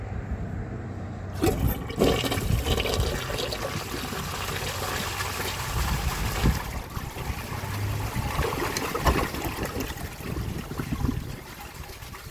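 A 1981 Eljer Murray toilet with a partly blocked siphon jet flushes in one long, steady rush of water with gurgling and trickling, close and fairly loud, easing off toward the end.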